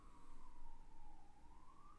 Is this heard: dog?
no